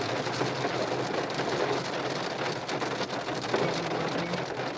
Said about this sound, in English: It's my bad if the rain gets so loud.